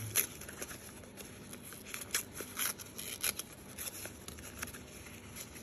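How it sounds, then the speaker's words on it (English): Scissors snipping around a paper picture for a traveler's notebook craft, a run of quick small cuts and paper rustles, close and fairly quiet with no speech. "I'm going to cut around this beautiful picture"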